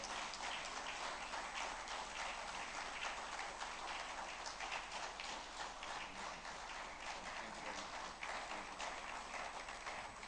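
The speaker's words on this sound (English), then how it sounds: "A round of applause for him, please, as he comes up. Please, let's clap till he gets here." An audience at an energy and labour summit claps steadily, a soft, continuous patter of many hands heard from a distance, without a break and without speech.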